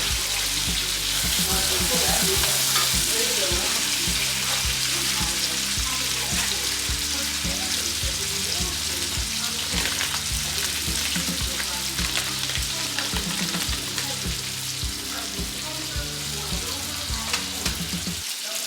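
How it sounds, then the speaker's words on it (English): Tomato and onion fry in a pan with a steady, dense sizzle and crackle. Intermittent scraping stir strokes and clatter sound over it the whole time, and there is no talk. "Just frying this tomato and onion just a little bit, not too long, maybe like 4 minutes."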